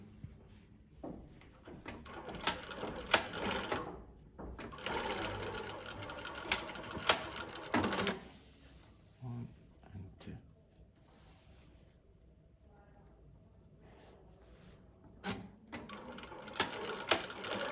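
A sewing machine stitching fabric in bursts of rapid mechanical whirring, several runs of a couple of seconds each separated by pauses and small clicks, close and moderately quiet, with some talking in between.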